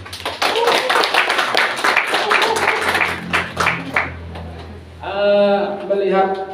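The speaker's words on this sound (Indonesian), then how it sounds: "Tepuk tangan." An audience at a poetry book talk claps in a brief burst that overlaps with talking. A voice carries on speaking afterward.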